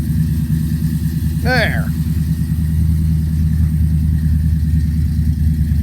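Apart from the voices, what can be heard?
Chevy pickup bored-out 350 engine idling cold with choke on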